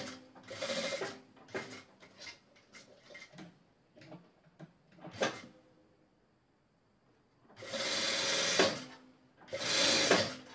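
Sewing machine topstitching a knit chemise dress runs in short bursts, whirring runs of rapid needle stitching split by quiet pauses and clicks, close and clear, with the longest steady runs near the end.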